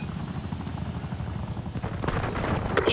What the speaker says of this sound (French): Ici Mason, je demande un hélicoptère de surveillance.